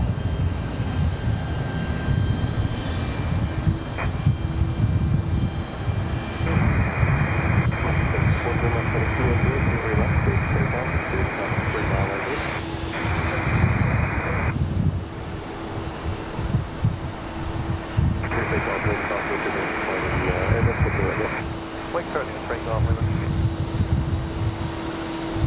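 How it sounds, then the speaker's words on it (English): A Breeze Airways Airbus A220 jet at Raleigh Durham International airport gives a steady, rumbling engine drone at a distance, with someone talking over it and bursts of radio chatter. "Now we swing back over here to Breeze Airways. And that a beautiful A220."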